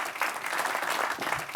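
A short burst of fairly faint, steady clapping comes from the audience at a university council meeting.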